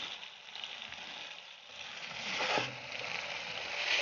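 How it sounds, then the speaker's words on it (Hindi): Chicken and tomatoes frying in a pot for chicken biryani, a steady close sizzle with a brief stirring scrape partway through, no voices. "टमाटर डालने के बाद आपने इसको अच्छी तरह से भूनना है।"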